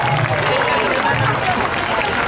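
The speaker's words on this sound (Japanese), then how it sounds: "大きな拍手" A crowd at a Colombian dance festival for Cinco de Mayo gives brief, close applause, with voices mixed into the clapping.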